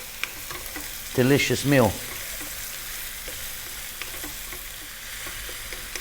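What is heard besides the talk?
cabbage frying on high heat while being stirred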